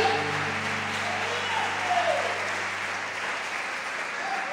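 A church congregation applauds steadily during an evening worship service, sustained dense clapping at an even level throughout, with a low hum of sustained tones or music underneath.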